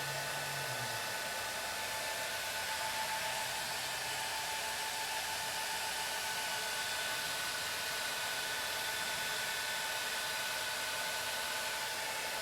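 TIG welding on the root pass of a beveled 2 inch pipe gives a steady, even hiss and hum that holds at constant level throughout with no speech.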